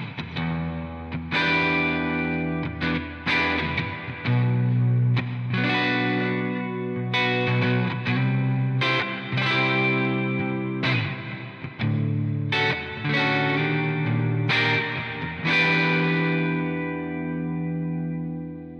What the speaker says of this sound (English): For this clean tone, what we've got here is a Fender-style amp with a slight bit of spring reverb